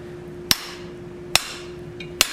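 Three sharp, evenly spaced hammer blows ring out on steel as center punch marks are struck during forging work, each hit crisp and metallic with a brief ringing decay over a steady background hum.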